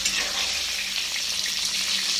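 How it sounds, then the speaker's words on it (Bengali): Pointed gourd pieces fry in a pan of oil, giving a loud, steady, continuous sizzle close up, with soft stirring movement underneath and no voices. "পটলগুলোকে আরেকটু নেড়ে দেবো।"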